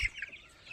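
Tiger chickens, 26 days old, give a brief clucking chirp near the start, followed by faint scattered peeps and rustle.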